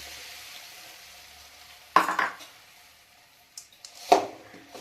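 Jaggery in ghee in a pan, with a faint hiss, then two sharp stirring scrapes and a few light clinks, close and with no talking.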